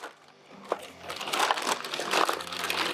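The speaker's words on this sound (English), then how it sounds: "I'm putting these calipers in a plastic bag so the brake fluid doesn't get everywhere." Close, rustling crinkles of a plastic bag being handled around brake calipers, irregular and growing busier over a few seconds.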